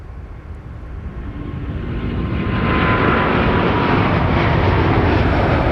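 A jet takes off from a runway at Minneapolis–St. Paul airport, its engine roar swelling over the first few seconds and then holding as a loud, sustained rush.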